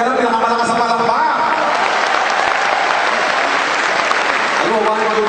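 Audience applause at a talk celebrating a young woman's success story, a dense, steady wash of clapping sustained throughout, with voices faintly mixed into the crowd noise.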